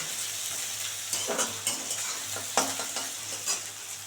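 Onion frying in a kadai while new potato dum with green peas is being cooked: a steady sizzle runs throughout, broken by several louder scraping stirs of a spatula against the pan.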